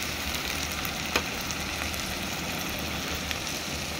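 Spices, including a fresh chili paste, sauté in hot oil in a pan with a steady, even sizzle and a couple of faint stirring clicks, no talking.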